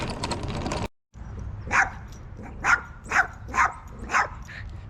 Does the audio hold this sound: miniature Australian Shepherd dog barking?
yes